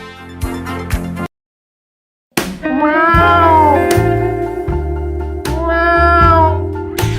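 Cat meowing in a series of drawn-out, tonal meows, several short ones at first, then after a brief silence longer wavering calls close to the microphone, with some background noise.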